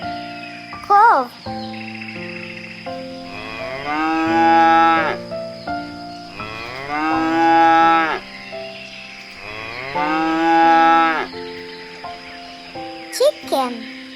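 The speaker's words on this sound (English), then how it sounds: "Cow." Cattle mooing: a cow gives about three long, drawn-out moos with steady pauses between them, loud and close, with brief short calls at the start and end.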